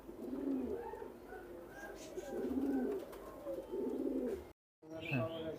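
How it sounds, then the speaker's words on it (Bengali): A pair of domestic high-flying pigeons at a farm coo close by, soft throaty phrases repeating in a steady rhythm, with a short break near the end. "এই যে আপনাদেরকে একজোড়া বাজি এলা কবুতর দেখাচ্ছি"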